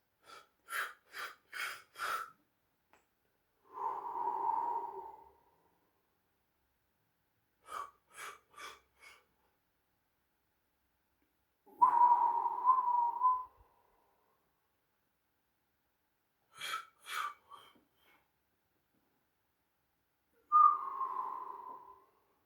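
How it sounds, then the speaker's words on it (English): Rapid deep breathing exercise: bursts of quick, sharp nasal inhales alternate with long, forceful exhales in repeating cycles, close and alone with silent gaps between. "you inhale a lot of air, and then you exhale at one shot. But when you do this, you have to breathe quickly"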